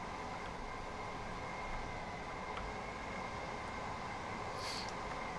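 Steady, loud rumble of a train running on the East Coastway route in Train Sim World 2, continuous wheel and motor noise with a faint high squeal near the end, no talking.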